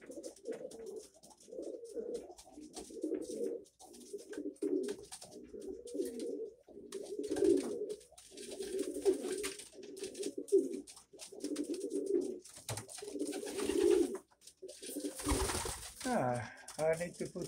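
Soft, repeated dove coos pulse in a steady rhythm, one call after another, close by, ending with a brief flutter and a louder rustle.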